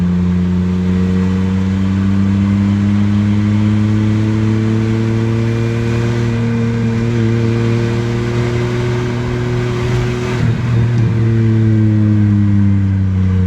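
A Subaru XT6 coupe with a six-cylinder engine and five-speed gearbox drives along with a steady, close, droning engine note. The engine holds its pitch, then revs a little around the middle.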